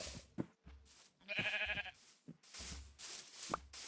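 A sheep bleats in a video game, one distinct bleat near the middle over soft, scattered game sounds and footsteps, fairly quiet and with no talk.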